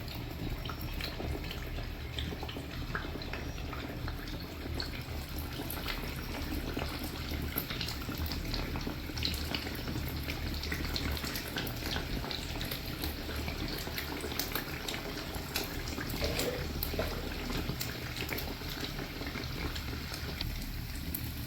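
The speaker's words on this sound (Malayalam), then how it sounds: "എണ്ണ ചൂടായി ഇനി നമുക്ക് ഓരോരോ കുഴിയിലായിട്ട് ഒഴിച്ചു കൊടുക്കാം കുറച്ച് കുറച്ചായിട്ട് ഒഴിച്ചു കൊടുക്കണേ" Unniyappam batter goes into hot oil in the cups of an appam pan, and the oil crackles and bubbles in a dense, steady sizzle that continues loudly throughout.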